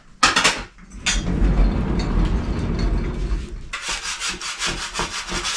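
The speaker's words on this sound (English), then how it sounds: "now my scraper" A hand scraper rubs and grates across a craft room table, scraping off dried glue in repeated raspy strokes, close and moderately loud, with sharp clicks at the start and end.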